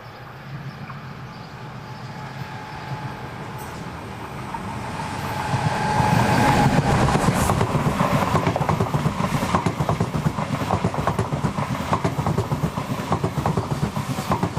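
Electric locomotive 460-035 heading south with a train near Frutigen, approaching from a low rumble and swelling into a loud, close passing roar with rhythmic wheel clatter that stays strong to the end.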